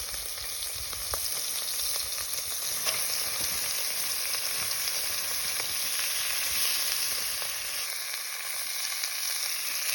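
Mince fries in a Dutch oven at a wild camp, a loud, dense, steady sizzle close by that eases slightly toward the end, with no voices.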